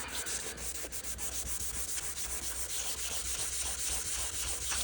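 A car headlight lens is wet sanded with coarse 400 grit sandpaper, a continuous close rasping rub with a faint back-and-forth rhythm, steady and without any voices.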